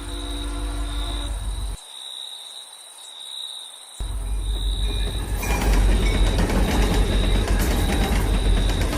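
A cartoon-style train sound effect of a train running at night: a steady rumbling roll with high wheel squeal, a brief quieter dip, then louder, busier clattering of wheels on track.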